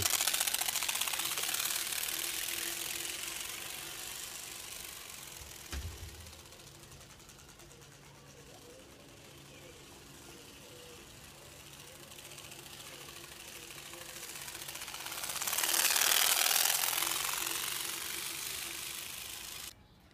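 TurboSpoke exhaust on a bicycle, fitted with a trail-bike card, gives a rapid buzzing motorbike-like rattle from the spokes that fades and then swells loudly near the end, with faint talking.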